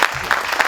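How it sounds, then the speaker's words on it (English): Audience applause at a panel discussion on closing Rikers Island, a brief burst of clapping from a seated crowd, steady and moderately loud with no voices over it. "Can we give them a hand of applause, please?"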